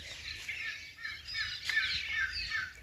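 Morning birdsong in a rural Indian village, with many small birds chirping and tweeting continuously at moderate distance, overlapping calls carrying through the whole stretch with no voices.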